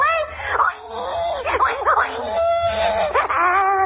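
A human voice imitates a pig, making a few seconds of close, continuous grunting and squealing oinks with wavering pitch, on an old radio barn-dance show.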